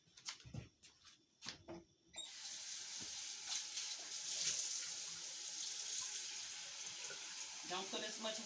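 Tap water runs steadily and close while cooking cabbage, preceded by a few clanks and knocks as a pot is handled, with the rushing flow continuing to the end.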